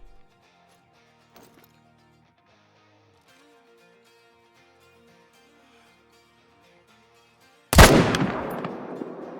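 A single loud M1 rifle shot rings out at a bedded mule deer buck in a forest hunting video game, a sharp crack followed by a rolling echo after a quiet stretch of faint ambient tones.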